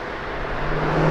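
A sports car with a twin-turbo V6 engine revs up close by in a short burst, its engine note climbing and growing louder.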